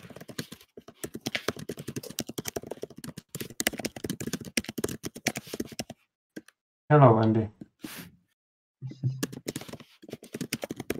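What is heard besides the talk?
typing on a keyboard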